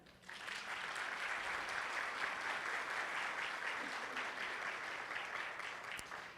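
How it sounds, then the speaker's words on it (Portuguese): Steady audience applause at a national PEA-UNESCO network meeting in 2024, a dense continuous clatter of many hands that holds loud and even for about six seconds before easing slightly at the end. "E bater palmas para eles,"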